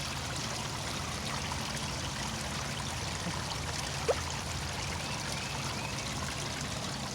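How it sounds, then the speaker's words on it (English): A small garden pond waterfall spills into a fish pond, making a steady, even trickle and splash that runs unbroken throughout at moderate distance, with one brief faint tap partway through. "There's the waterfall."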